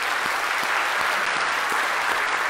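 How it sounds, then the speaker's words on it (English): A church congregation applauds during a worship service, steady dense clapping filling the whole stretch with no break, moderately loud and evenly sustained. "Can we give them a round of applause?"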